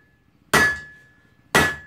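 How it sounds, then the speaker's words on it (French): Two heavy blows from a large hammer ring out about a second apart while making fire, each a sharp, loud metallic strike with a lingering ringing tone that fades before the next. "prenez un marteau un peu gros"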